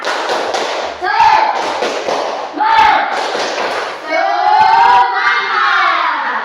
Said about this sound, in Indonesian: Coba ibu mau kalian tepuk semangat dulu